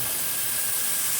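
Sardine oil mixed with olive oil heating in a frying pan, giving a steady, bright, even hiss that stays constant the whole time with no breaks.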